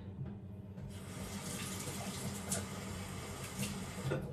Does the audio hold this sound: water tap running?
yes